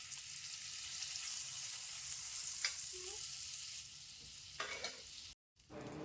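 Butter sizzling in a hot wok, a steady hissing crackle with a couple of faint scraping clinks, cutting off briefly near the end.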